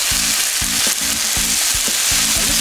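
Cherry tomatoes and leftover tomato juice sizzle steadily in a hot pan alongside poaching Alaskan salmon, a loud continuous frying hiss with repeated low stirring knocks and no voices.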